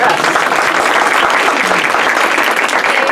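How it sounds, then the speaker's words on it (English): Steady, loud applause from a crowd at a Rotary meeting, continuous clapping filling the whole stretch without pause. "So, yes, you can applaud them."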